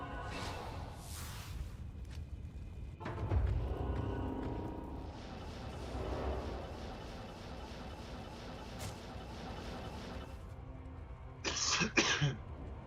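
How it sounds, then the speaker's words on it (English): Coughing and throat clearing by a player during a Diablo 2: Resurrected session, several harsh bursts near the start, a rough stretch in the middle and a sharp double cough near the end, over a quiet background. "Sorry for the coughing."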